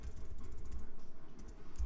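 Computer keyboard typing while coding in Python, a fast run of close, soft key taps with a steady rhythm and no voice over it.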